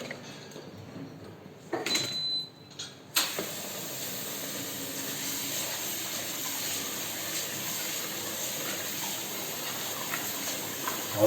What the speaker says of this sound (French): On brasse le riz dans l'eau.